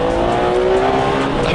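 A Ferrari 599 sports car on a racetrack gives a loud, close, steady engine drone with a strong humming tone, sustained through the short moment without any speech.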